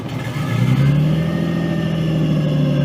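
A Nissan 240SX S13 with a swapped RB20DET engine idles and revs up, a loud, close, steady drone with a rising tone and a faint whine on top, with no talking.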